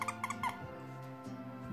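A small squeaky dog toy gives a few short high squeaks in quick succession, then falls quiet against a low steady household hum, fairly faint.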